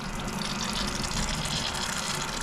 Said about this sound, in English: while the water took a bit of time to get going, it was working too